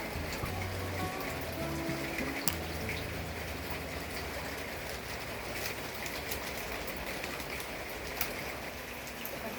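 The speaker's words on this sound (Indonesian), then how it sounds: "Di sini sudah mulai turun hujan ya teman-teman," Light drizzle falls at a campsite, a soft, steady patter of rain under faint background hum, with no one talking.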